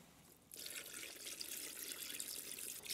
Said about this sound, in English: Now we pour the water in.